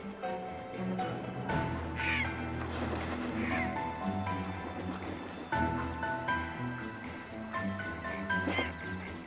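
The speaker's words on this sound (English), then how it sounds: "A fight has flared up over the last fish among the herons." Harsh, croaking squawks from herons fighting over the last fish in a wintry wild setting, repeated bursts of rough calls and scuffling, layered over a soft musical backdrop.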